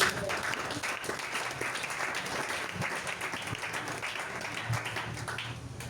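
A church congregation applauds in acclaim, a continuous moderately faint clapping from many hands lasting the full six seconds.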